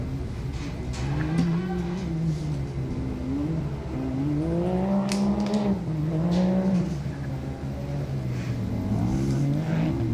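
Can-Am side-by-side racing engine, race number 956, in an off-road race at Glen Helen Raceway, droning loudly throughout and rising and falling in pitch as it revs and shifts, with a steady near roar and no talk.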